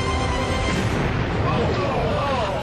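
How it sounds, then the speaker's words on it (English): A Delta II rocket explodes seconds after liftoff from Cape Canaveral Air Station, a continuous roaring, rumbling blast heard from a distance and filling the whole stretch with dense noise. "an explosion rocks the Cape."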